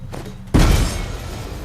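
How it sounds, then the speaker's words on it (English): A training bomb going off in The Witcher 3, a single sudden loud thud-like blast about halfway through, decaying into a rumbling tail. "Walk away from the explosion."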